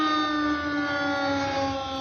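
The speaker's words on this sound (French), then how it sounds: "Les sirènes ont retenti de longues minutes." Civil defense alert sirens sounding over Rive-de-Gier, France, during severe flooding: a steady, sustained wail with rich layered tones, heard alone without voices.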